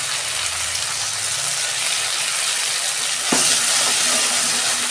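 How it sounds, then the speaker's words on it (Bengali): Onion with ginger-garlic paste frying in a pan, a steady loud sizzle throughout that flares brighter partway through, close up with no voices. "ভালো করে 2 মিনিট কষাবো আমি"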